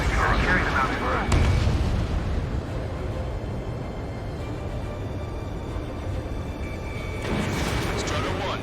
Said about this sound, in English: Their artillery fire just missed us off our starboard side